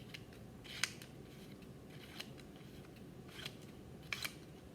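Scissors cut through paper strips in four separate crisp snips spaced about a second apart, close and quiet, with no talk.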